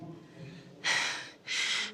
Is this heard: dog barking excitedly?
no